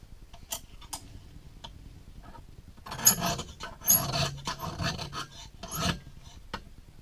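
A knife edge rasps in long, repeated strokes across a Lansky diamond hone, each pass a soft scraping rub close by, fairly quiet with brief pauses between strokes.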